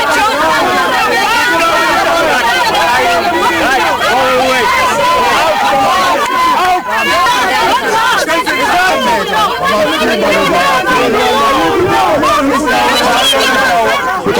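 A hostile crowd at a shack settlement shouts and clamours continuously, with many voices overlapping into a loud, dense babble that stays close throughout.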